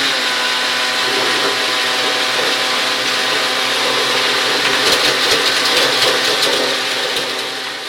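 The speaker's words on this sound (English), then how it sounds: "I'm going to put the ice cubes in one by one through the hole in the lid of the blender." A blender runs continuously, crushing ice cubes for a Jamaican stout punch: a loud, steady motor whine with grinding and rattling, the ice clattering audibly in the second half before the noise eases slightly at the end.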